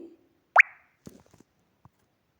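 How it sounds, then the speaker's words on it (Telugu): Halved green chillies dropped into a hot cooking pan land with one close, wet plop and a short sizzle, followed by a few faint clinks and taps. "ఐదు పచ్చిమిర్చీలను అయితే రెండుగా కట్ చేసుకుని అయితే వేసుకోవాలి"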